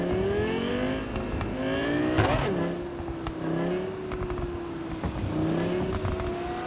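A car driven in the video game Cyberpunk 2077, its engine droning and rising and falling in pitch as it accelerates and shifts, with a brief squeal midway. The engine runs loud and close the whole time.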